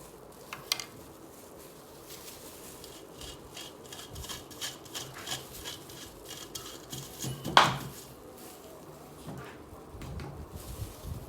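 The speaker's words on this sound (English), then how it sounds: "So you mix everything together, as you can see." Carrot cake batter being mixed in a bowl, a soft scraping and rubbing texture with occasional utensil clinks against the bowl and one louder knock partway through, steady and close with no talk.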